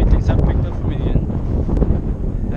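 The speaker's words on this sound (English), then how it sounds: "Sorry about the wind" Strong wind buffeting a microphone outdoors at Castillo San Felipe del Morro in Old San Juan, heard as a loud, constant roar that covers the whole clip.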